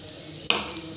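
Broad beans fry with a paste of coconut, chili, garlic, cumin and salt. A short clink or scrape in the pan is followed by a steady, close sizzle.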